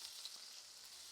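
Faint, soft sizzle of chicken frying in plenty of olive oil in a cheap pan, a brief steady crackle with no voices.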